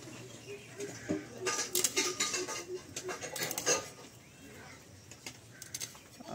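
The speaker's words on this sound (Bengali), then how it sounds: "মাছটি বাছা চলছে" Rui fish being cleaned with a knife in a village kitchen, with faint scraping, clinking and knocking taps scattered over a quiet, noisy background.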